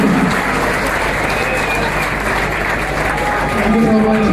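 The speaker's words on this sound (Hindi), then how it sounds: "एक बार जोरदार तालियों के साथ।" Sustained audience applause fills a seminar hall at a motivational career-institute event, a dense steady wash of many hands clapping at once, loud and continuous with faint crowd murmur beneath.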